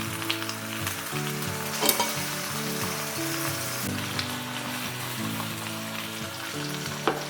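A pancake with green asparagus fries in a little oil in a pan, a continuous close sizzle with faint musical notes running underneath.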